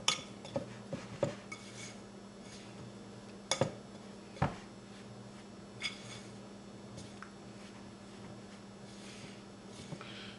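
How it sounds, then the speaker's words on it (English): A fork mixes pasty dough in a bowl, giving scattered sharp clinks and scrapes of metal against the dish, several louder knocks early on and then softer, sparser taps over a low steady background hum. "I'm going to switch to a fork so I can get down in there and mix it really,"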